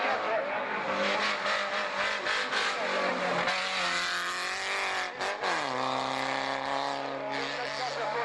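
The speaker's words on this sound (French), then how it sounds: "La superbe BMW donc de Claude Jabaloya maintenant, numéro 88 pour lui" A BMW race car, number 88, roars past during a motor race, its loud engine note sweeping down in pitch as it passes near, with commentary spoken over the engine.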